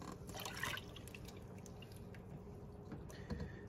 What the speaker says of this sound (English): now I'm gonna pour off some of this buttermilk with a sieve here